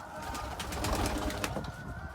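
A pigeon coos softly nearby in a few low, throaty bursts over a quiet background.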